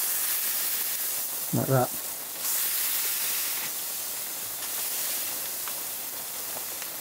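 Thinly sliced onion and a burger sizzle on a Weber Summit Plancha griddle, a steady, close, bright hiss throughout, with a brief spoken remark early on.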